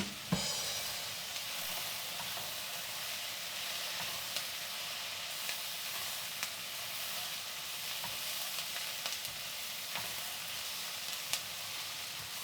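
Onions frying in a pan over a camp-style cook, a steady close sizzle and hiss with occasional stirring clicks and scrapes, no talking.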